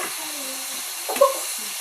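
Squash, string beans and okra sauté in a hot pan, giving a steady close hiss and sizzle with a short stirring scrape near the middle.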